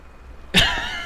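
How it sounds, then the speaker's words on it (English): A single sharp cough bursts out close by after near silence, trailing off into a brief raspy tail. "That was a legit cough"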